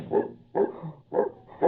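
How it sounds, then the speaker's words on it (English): A dog barks four times in a steady, evenly spaced series, each bark short and mid-pitched, fairly close and with no talk over it. "Oh, the dog."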